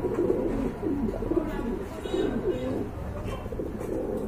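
Large pigeons kept for sale at a bird market coo steadily in low, rolling throaty calls that overlap close by, with a constant murmur of background noise.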